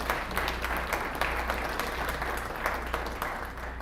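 An audience at a State of the City presentation claps in a round of applause for a longtime city official. The moderate, steady clapping runs throughout over a low hum, with individual claps standing out here and there.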